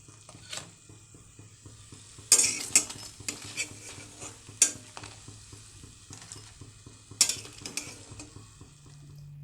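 Jatilau (bottle gourd) pakoras fry in a kadai and are lifted out one by one. A low sizzle runs underneath while a slotted spoon scrapes and clinks against the metal.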